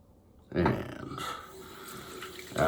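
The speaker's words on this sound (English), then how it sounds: "add a little bit more water to the side of the brush here." Water runs from a tap onto a shaving brush at a sink, a close, rushing splash that starts abruptly and flows steadily before a louder burst at the end.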